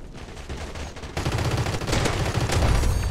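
Continuous automatic gunfire in the multiplayer shooter Crossfire X, a dense rattling burst held steady and close, growing louder after the first second with no pauses.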